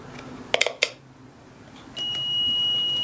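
A continuity tester checks a coil in a Philco model 37-2670 radio: a few quick clicks as the probes touch, then a steady high-pitched beep sounds continuously, faint and close.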